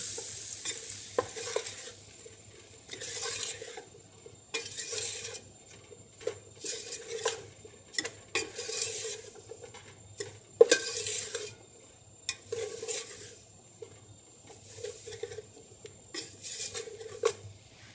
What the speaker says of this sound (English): Add flour of equal amount to the butter and cook. Stirring frequently to produce a brown roux.